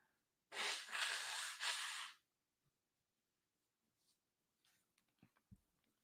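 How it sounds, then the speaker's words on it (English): A loud, forceful nose blow lasting over a second, followed by quieter rustling and a few soft knocks. "I need to blow my nose real quick"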